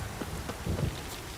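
Steady rain falls in The Witcher game, a dense continuous hiss with faint low rumbles, heard alone at moderate level.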